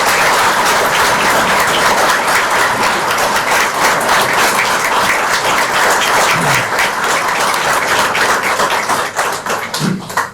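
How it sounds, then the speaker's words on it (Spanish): Audience applause after a Spanish-language talk by a writer about his book on Leandro Gómez, loud, dense clapping filling the room steadily before tapering off at the end. "este aplauso es bien merecido"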